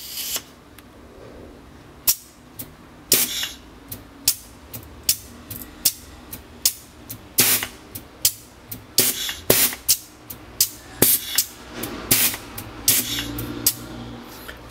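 Pneumatic cylinder worked by push-button valves advances and retracts repeatedly, giving sharp hissing air bursts and clacks at a fairly regular, quick rhythm, close and loud against a quiet background.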